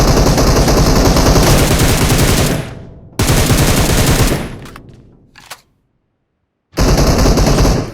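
Loud automatic gunfire in a video game firefight hammers in long sustained bursts, breaks off, returns briefly, falls into a few seconds of silence, then erupts again.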